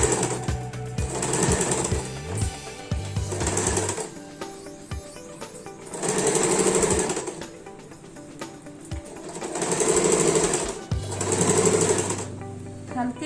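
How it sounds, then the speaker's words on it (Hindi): Sewing machine stitching around the edges of old cloth being made into a doormat, with several close, rhythmic bursts of rapid needle chatter that swell and fade between brief pauses and clicks. "अभी हम चारों तरफ से इसे सिलाई मार देंगे"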